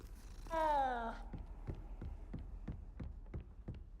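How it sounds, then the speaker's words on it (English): A cat in the video game Hogwarts Legacy gives a short, clear meow, then a quiet, steady run of rhythmic throbbing pulses like a purr. "it's a cute cat, but it makes this fucking god-awful noise"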